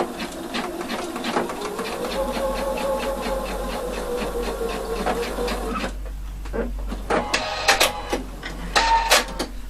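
Sewing machine stitching a tailored sleeve vent, a fast steady mechanical whirr running for about six seconds before stopping, followed by a few light clicks and handling taps.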